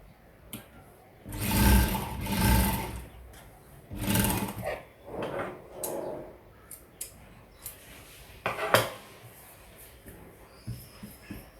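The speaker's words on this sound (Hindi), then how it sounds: "डबल जो सिलाई है वो लगाते हैं" On a blouse, a sewing machine runs a double seam in several short bursts of whirring stitches, close and moderately loud, separated by pauses with handling noises, small clicks and fabric rustle.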